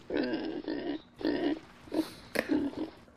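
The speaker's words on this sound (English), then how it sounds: "Little baby piglets." Piglets in a Skyrim farm animals mod oink in a string of short, nasal, rhythmic grunts, close and clear, pausing briefly between bursts before a sharper squeal-like call.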